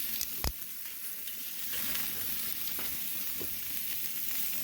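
Burgers sizzle on a charcoal grill in a continuous close hiss, broken by a sharp scrape or tap near the start and a few faint clicks later.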